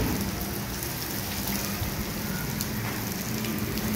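Steady heavy rain in a storm hissing down on surfaces, a dense continuous wash of drops with a low rumbling undertone throughout.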